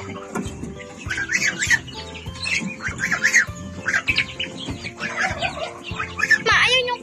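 Many chicks and chickens being fed, with dense overlapping cheeps, squawks and clucks close by, steady throughout and rising to a loud burst near the end.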